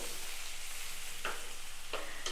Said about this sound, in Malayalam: ഇതെല്ലാം കൂടെ ചേർത്ത് നമുക്കൊന്ന് മിക്സ് ചെയ്ത് കൊടുക്കാം